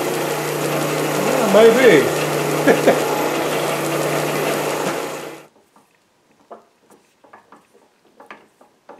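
An oscillating drum sander fitted to a drill press hums steadily at close range for about five seconds, then cuts off, leaving a few faint clicks and a brief spoken remark in the quiet.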